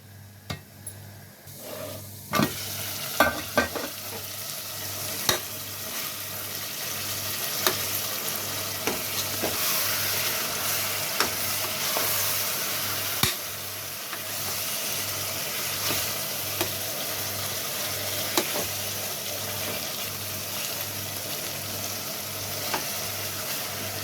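Chicken and soaked rice sautéing in a pan for chicken biryani make a steady sizzle and frying hiss, with repeated scraping stirs and occasional clicks, close by and continuous with no talking.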